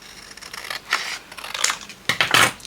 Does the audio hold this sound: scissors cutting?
yes